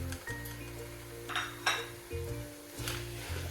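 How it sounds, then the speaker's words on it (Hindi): Minced meat (keema) dropped into a hot pan for keema gobi, sizzling in short bursts with spoon scrapes and clinks against the pan, fairly close and alone without talk. "कीमा ऐड कर देंगे इसमें।"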